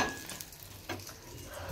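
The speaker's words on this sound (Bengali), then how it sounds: "এখানে পটল ভাজা হচ্ছে" Slices of pointed gourd (potol) fry in hot oil in a home kitchen, giving a faint, steady sizzle with a few soft stirring scrapes.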